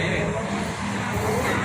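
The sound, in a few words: Harapan Jaya bus driving into the ticket counter area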